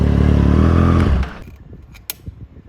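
A 2020 Triumph Street Triple RS fitted with an SC Project S1 exhaust roars loudly at high revs, then cuts off sharply into a crackling, popping idle with a few brief sharp pops.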